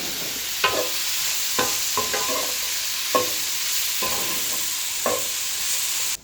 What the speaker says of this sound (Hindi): सब्जियों को मीडियम हीट पर रख के सौटे करेंगे।